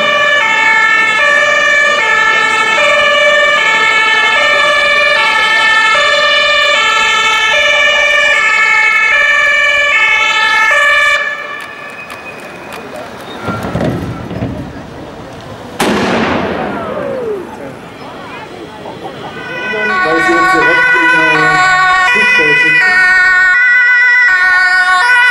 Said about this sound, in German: Jetzt hören Sie den Rettungswagen.